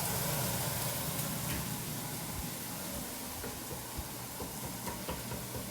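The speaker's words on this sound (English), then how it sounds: "we're going to saute our onion and both of our peppers." Chopped onion and peppers sauté in a hot pan, giving a steady, soft sizzle and hiss with occasional faint pops and stirring clicks, heard close and alone.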